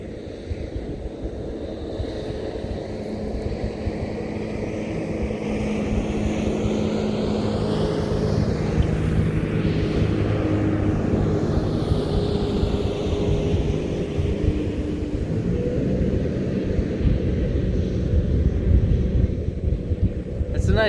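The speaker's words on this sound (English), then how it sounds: "It's a nice jet boat," A jet boat engine drones steadily on the water, a loud continuous rumble with a rising and falling whine that swells toward the middle and stays close throughout.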